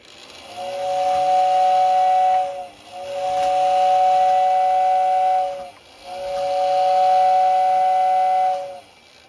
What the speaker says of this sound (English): it's got a very nice whistle, which I will demonstrate for you now